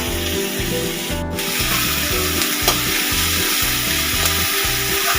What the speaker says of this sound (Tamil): இந்த எல்லா பொருளையும் சேர்த்து மறுபடியும் ஒரு வாட்டி வதக்கணும்